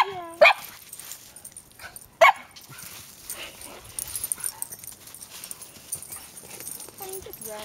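A dog barks twice, sharp and close, with a long pause between, while people talk softly in the background.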